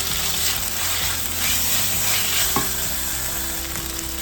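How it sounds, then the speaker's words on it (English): Potatoes stirred into frying onions, ginger and garlic in a pan give a loud, continuous close sizzle with stirring scrapes, over a low steady tonal hum in the background. "You will stir and add the potatoes."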